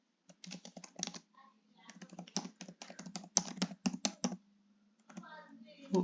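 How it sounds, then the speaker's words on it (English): Typing on a computer keyboard sounds close and crisp in quick bursts of clicks with short pauses, over a faint hum. "So let's start typing."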